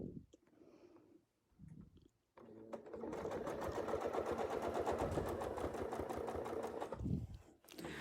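Sewing machine running in a steady, fast, close whir for about five seconds, preceded by soft handling noises and a brief quiet pause.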